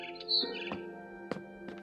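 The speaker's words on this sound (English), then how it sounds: "Then I heard chirping outside my window." A barn swallow in the video game What Remains of Edith Finch gives several short, clear chirps in quick succession, bright and close, with no talking.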